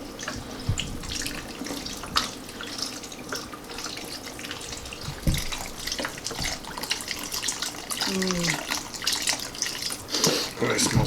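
Unsalted chicken broth pours and splashes steadily into a pot, with clinks and clatter of cookware and occasional voices nearby.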